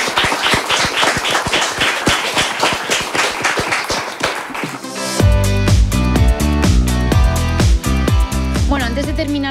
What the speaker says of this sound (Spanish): Así que nada, pues un aplauso